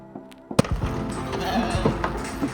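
Eight ewes and eight lambs bleat in short, scattered calls over a busy outdoor background, with a sharp knock partway through and a few closer bleats toward the end.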